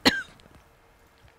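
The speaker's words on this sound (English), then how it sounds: "So excuse me, I'm gonna cough." A single sharp cough up close, followed by near silence with faint background rustle.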